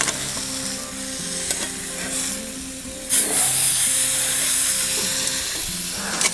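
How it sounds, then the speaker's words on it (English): Big, heavy rubbed pork loins searing on a smoker grill give a steady, close sizzle and hiss, with a sharper spitting flare partway through and tonal hum in the background. "Just getting that sear on there, sealing that flavor in of all those rubs"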